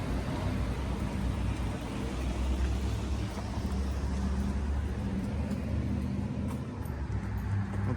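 Truck driving along a street, a steady low engine rumble and road noise filling the whole stretch at moderate distance, with no voices over it.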